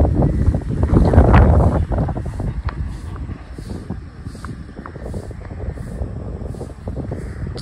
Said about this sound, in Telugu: ఫుల్ గాలి వస్తుంది